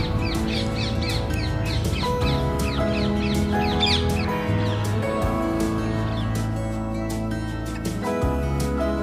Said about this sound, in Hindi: और इसके साथ साथ यहाँ पे पंछियों की आवाज़,